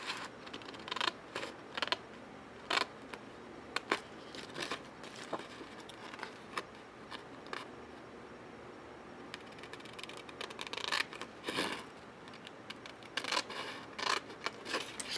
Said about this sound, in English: now I'm just going to cut that out